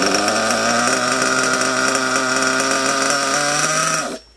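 Nitro engine of a Savage X RC car fitted with an Alpha engine, during break-in, running with a loud, buzzy, high-pitched whine that holds steady with slight pitch shifts before cutting off abruptly near the end.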